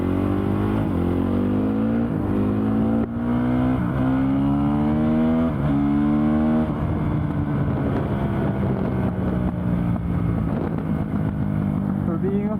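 A Honda CRF450 supermoto's single-cylinder engine revs repeatedly, its pitch rising and falling through several pulls before settling into a rough idle, loud and nearby.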